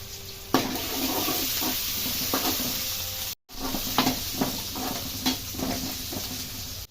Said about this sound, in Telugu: ఈ ఉల్లిగడ్డలలో మనం కొద్దిగా సాల్ట్ వేస్తే తొందరగా ఫ్రై అవుతుంది.